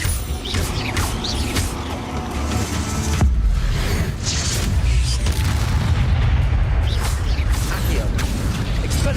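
Incendio fire spell blasts in the video game Hogwarts Legacy, loud booming bursts layered with mechanical game effects, one sharp impact near the middle and a dense, continuous rumble across the whole stretch.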